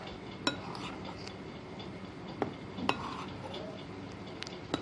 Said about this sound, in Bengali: এইভাবে এটা আবার ভালোভাবে মিশিয়ে নিতে হবে।